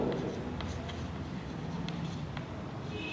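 Chalk or marker strokes on a board during a physics lecture on electrostatic potential, heard as faint, scattered taps and short scratches against a quiet room hum.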